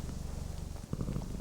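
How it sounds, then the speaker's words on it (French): A domestic cat purring close by, a steady low rumbling pulse that runs unbroken through the whole short moment with no talk over it. "Excusez-moi si vous entendez ronronner mon chat"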